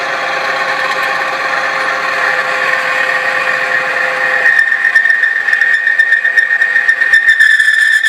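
Car engine running on Shell Helix Ultra Professional 5W30 oil, a steady close mechanical drone with a whining tone that grows rougher and more rattling partway through.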